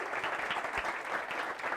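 Applause from a live audience at a webpack tech meetup: a steady, fairly faint wash of many hands clapping that continues evenly throughout, with no voices over it.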